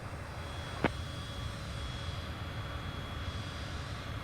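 Airliner jet engine in a Microsoft Flight Simulator landing, a steady, even whine and rumble throughout with one brief click near the start, no talk.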